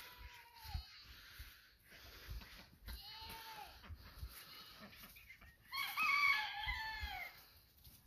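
Roosters crow several times on a farm during morning chores, the calls rising and falling at moderate distance amid soft clucking and other barnyard animal sounds, with a louder, busier burst of crowing and clucking near the end.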